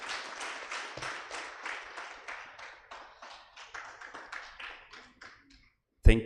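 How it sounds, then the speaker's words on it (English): A small forum audience claps in distinct, rhythmic bursts that gradually thin and slow before stopping, followed by a sudden loud noise at the very end. "ask you to applaud him for being here."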